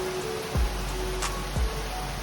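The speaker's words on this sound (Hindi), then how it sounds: "बाहर बारिश आई हुई है" Steady rain falling outside an indoor space, a constant soft hiss with two brief low thumps in between, and no talking.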